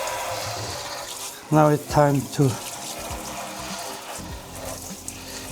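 Hot water runs steadily from a tap, for cleaning the parts of a Weber Pulse electric grill, a continuous hiss under a man's speech, which briefly rises above it.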